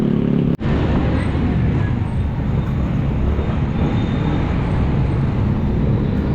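A car moves through light traffic on a service road toward Paso de Blas and Mindanao Avenue, a steady broadband road rumble with tire noise, one brief dip early on and otherwise continuous.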